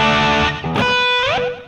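Distorted electric guitar lead tone played through an effects rack in Ableton Live, a sustained, harmonically rich note that bends and slides upward near the end, loud and alone.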